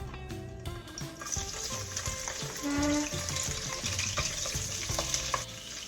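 Garlic frying in oil in a pan while cooking chicken feet and gizzard adobo, a steady close sizzle with some stirring scrapes throughout, no talking.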